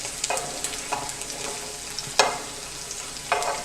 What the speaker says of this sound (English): I'm frying the tomatoes.